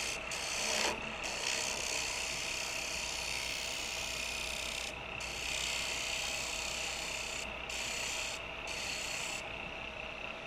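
A woodturning tool scrapes a wooden profile spinning on a lathe, a continuous close rasping hiss with a low motor hum beneath and brief breaks in the cut.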